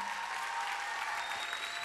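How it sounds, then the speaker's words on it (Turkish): Studio audience on a Turkish television talk show applauds, a steady, fairly soft wash of clapping throughout with no voices over it. "Yıldız Tilbe'ye kocaman bir alkış önce"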